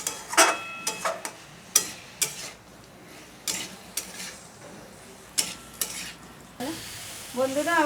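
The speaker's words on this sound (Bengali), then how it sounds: "এবার এটাকে দিয়ে মশলার সাথে ভালো করে একটু কষিয়ে নিয়ে" Fried potatoes and elephant foot yam being sautéed in spice paste: repeated sharp spatula scrapes and stirring knocks against the pan over a low sizzle, spaced irregularly, with no talk.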